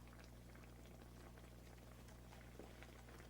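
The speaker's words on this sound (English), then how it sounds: "we can see that it's starting to boil" Water boiling in a pot on the stove before poaching salmon, a faint steady bubbling hiss with a low hum throughout and a slightly louder bubble burst near the end.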